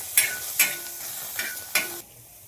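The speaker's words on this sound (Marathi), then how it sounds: "आता मस्त याचा कच्चेपणा जाईपर्यंत भाजून घेऊ" Tomatoes and peanuts roasting on a hot pan, with a few sharp scraping stir strokes over a low steady sizzle, close by, before the sound drops away.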